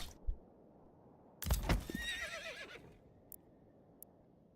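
A horse in the medieval city-building game Manor Lords lets out a single loud, wavering whinny after a few soft hoof clops, then a faint clop or two in otherwise quiet ambience.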